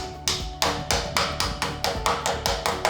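A hammer gives light, regular taps to push small shelf-support parts into a display shelving unit during assembly, about ten crisp, close knocks evenly spaced.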